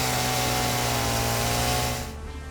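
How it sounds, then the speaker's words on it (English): A chainsaw from the video game Satisfactory cuts with a loud, steady buzzing drone for about two seconds before it drops off and quiets near the end, with no talking. "Can you chainsaw while it's alive?"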